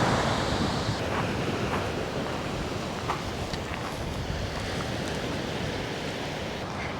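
Steady surf washing onto a remote camping beach on Catalina Island, heard as a continuous roar with wind buffeting the microphone throughout and no voices.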